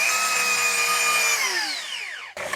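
A car polisher buffs the clear coat on a truck, its motor holding a steady high whine before winding down in pitch and cutting off, followed by a brief clatter at the very end.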